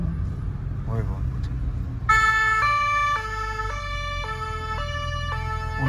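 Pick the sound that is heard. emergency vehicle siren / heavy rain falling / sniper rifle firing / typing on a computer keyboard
emergency vehicle siren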